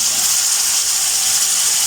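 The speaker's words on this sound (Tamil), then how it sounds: "இந்த வெங்காயமும் இந்த பூசணிக்காயும் சேர்ந்து நல்லா பொரியும் அப்படி எண்ணெயில்." Sri Lankan pumpkin and onion frying in oil for a vegetable curry in a Kilinochchi kitchen, giving a steady, even sizzling hiss that stays loud and unbroken from start to finish with no voices.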